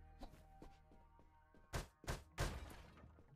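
Punches breaking open a grating in the video game UnMetal, a few soft thuds followed by two heavier crunching impacts close together, fairly quiet.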